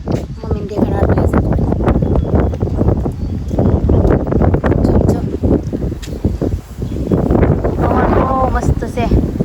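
Gusty wind outdoors on a sunny day buffets the microphone with constant loud rumbling, while people talk over it.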